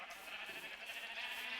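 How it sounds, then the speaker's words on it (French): Sheep bleat in the Minecraft video game, soft overlapping game sounds, faint and low in level, with no talk over them. "donc les petits moutons là"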